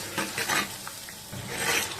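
Mustard greens saag being stirred into a hot ghee tempering for Punjabi sarson da saag, with soft scraping strokes and a sizzling, frying hiss that rises and falls in short bursts, close up and without talk.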